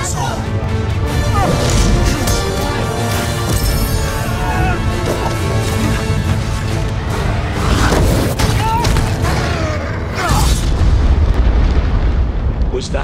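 A dragon's rumble from The Hobbit film: loud, deep booming and crashing impacts roll continuously, swelling in bursts, with voices speaking at times.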